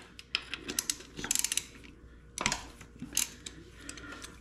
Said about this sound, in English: I'm just going to put the socket on there and take that out